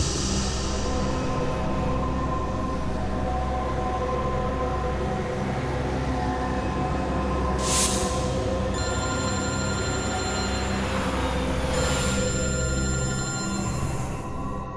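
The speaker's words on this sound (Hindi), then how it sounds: "एसीपी साहब का फोन।" A telephone rings through a tense police crime-drama scene, its repeated bell tones sounding steadily over a dense background of music and ambience, with no talk.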